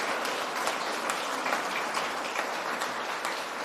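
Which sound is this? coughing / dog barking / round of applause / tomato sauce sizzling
round of applause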